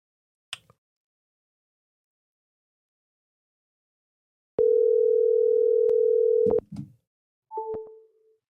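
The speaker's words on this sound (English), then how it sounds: "We just had a disconnected call." A telephone line tone sounds after a call drops: a steady, loud tone held for about two seconds, then a short break with clicks, then a briefer two-pitch tone, with silence before and a few faint clicks.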